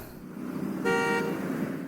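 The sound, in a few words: car horn honking in a TV show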